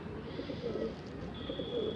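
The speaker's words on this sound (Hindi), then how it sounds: "चौधरी साहब का कबूतर, काला चिन्ना है" Soft, low cooing from a black pigeon in a steady murmur, with a faint high tone joining partway through; no talking.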